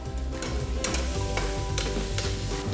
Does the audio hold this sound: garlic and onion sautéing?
yes